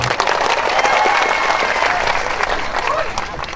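Outdoor crowd applause at a speech at a temple ruin site, dense steady clapping from many hands filling the whole stretch, fairly loud and even, with some voices mixed in.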